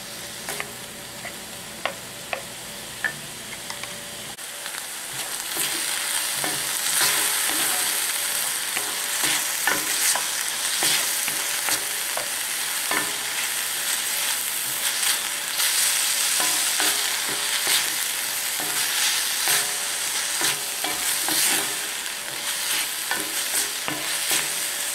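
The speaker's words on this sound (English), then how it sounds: "We just have to let the onion cook." Onion cooking in a pan for a chicken, sage and mushroom dish: a few faint clicks, then a dense, continuous sizzle begins and carries on, with irregular scraping from stirring throughout.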